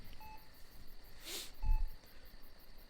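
Telephone keypad dialing tones in two short bursts, each a pair of clear electronic beeps, separated by a soft rustling swish, heard fairly quietly over a faint background hiss with no talking.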